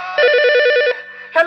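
A phone ringing loudly and close by: a fast warbling electronic ring pulses for most of a second, pauses briefly, then starts again, with no voices.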